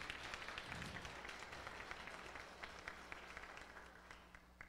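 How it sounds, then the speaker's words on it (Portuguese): An audience at a public hearing on neighborhood road paving claps, a dense steady applause that slowly fades over a few seconds. "Uma salva de palmas para todo mundo."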